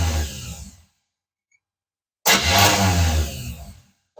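A car engine fires up with a loud burst of cranking and catching, cuts out into silence, then starts again and runs roughly for a couple of seconds, close to the microphone.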